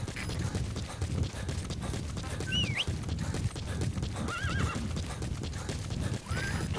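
Horse hooves clip-clop steadily through a PS4 open-world wilderness game, with repeated neighs and whinnies rising over a busy, continuous in-game soundscape.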